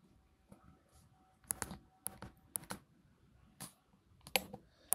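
A password is typed on the touchscreen keyboard of a Trimble TSC5 handheld controller, giving a scattered run of sharp close clicks and taps in small bursts, with no talk.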